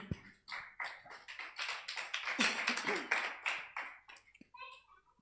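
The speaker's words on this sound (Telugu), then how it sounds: "గట్టిగా చప్పట్లు కొట్టి ప్రభుని స్తుతిద్దామా." Congregation at a year-end fasting prayer service clapping in praise, a burst of irregular, overlapping hand claps that swells and then fades out, with a few stray claps and faint voices at the end.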